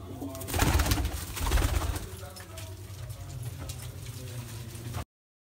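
Pigeons coo repeatedly at close range at a breeder's loft, the soft rolling calls louder in the first two seconds and continuing through a steady background murmur.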